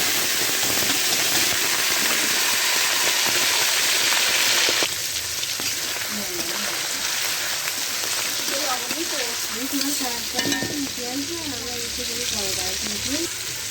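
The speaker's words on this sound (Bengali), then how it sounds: "তেল দিয়েছি, তেল গরম হয়ে গেছে, চিংড়ি মাছগুলো দিয়ে দেবো।" Shrimp dropped into hot oil for a bottle gourd and neem leaf dish hiss and crackle loudly, a dense broadband sizzle that eases slightly midway, with a voice talking over it.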